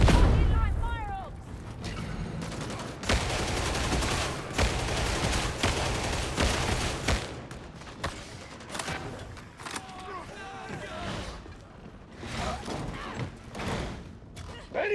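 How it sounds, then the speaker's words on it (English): Barrel explosion in the co-op shooter Darktide, heard as a deep boom within steady bursts of gunfire and heavy thuds, loud and cluttered, with people talking over the action. "The barrel is exploding!"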